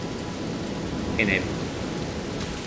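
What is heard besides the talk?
rain falling in the video game Elden Ring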